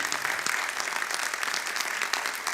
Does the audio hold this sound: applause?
yes